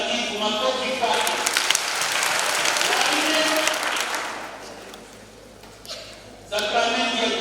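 Warm, scattered applause rises from an audience at a first communion children's quiz at Kijenge parish in Arusha. It peaks for several seconds, then thins out, and someone starts talking again at the end.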